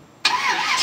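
A 1981 C3 Corvette Stingray engine catches abruptly after a short quiet moment and settles into a loud, close, steady rumble with a slight rising and falling tone.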